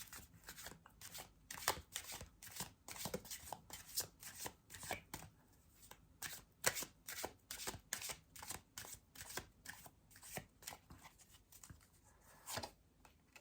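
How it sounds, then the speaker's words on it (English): Tarot cards shuffled by hand in a long run of quick, crisp riffling bursts, each sharp flutter close and fairly loud, repeating steadily with brief gaps and no talking. "So let's pull 3 cards for advices to see what is the universe"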